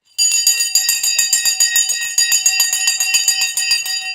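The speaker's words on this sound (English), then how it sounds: "We rang the bell." A bell is rung repeatedly in a fast, steady clanging run at the close of a live investment show, loud and close for about four seconds with no talking over it.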